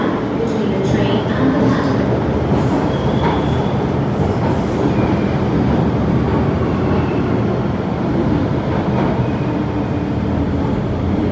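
A metro train rumbles steadily throughout, with wheel noise and faint squeals close by, continuous and loud, at Quarry Bay Station.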